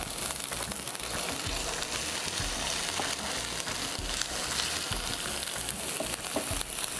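Onion fries in a pan with a loud, dense, continuous sizzle and crackle that stays close and steady the whole time, with faint stirring underneath.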